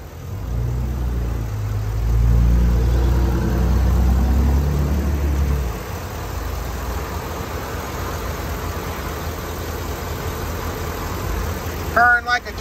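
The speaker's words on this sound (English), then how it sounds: "I've got it running, this Vortex engine." A 2011 GMC Sierra 2500 four-wheel-drive pickup with a Vortec engine idles, a low steady rumble that is stronger at first, then settles to a quieter, even drone, with someone speaking briefly near the end.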